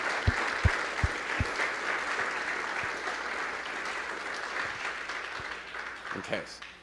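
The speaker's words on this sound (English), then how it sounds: "Let's have a round of applause for them." Audience applause at a conference's opening remarks, sustained clapping from a room of people with a few sharp nearby claps, fading slightly toward the end.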